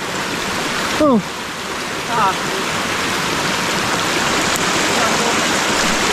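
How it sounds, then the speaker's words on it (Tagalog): Heavy rain with rushing floodwater during a typhoon, a steady, loud broadband wash filling the whole clip, with brief voices exclaiming over it. "Malakas ulan na di eh."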